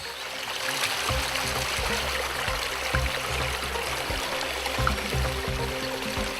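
A small stream in the countryside trickles and burbles steadily, with low thumping handling or footstep noises underneath and no talk.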